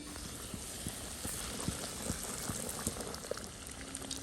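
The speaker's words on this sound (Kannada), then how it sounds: "ನೋಡಿ ಎಣ್ಣೆ ಕಾದಿದೆ. ಮೀನನ್ನು ಫ್ರೈ ಮಾಡುವ." Coated fish frying in hot oil, a steady soft sizzle and bubbling with scattered small pops and crackles, close and fairly quiet with no talking.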